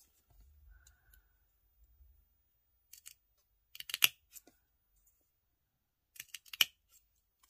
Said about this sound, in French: on coupe la paille en diagonale et on fait des petites bandes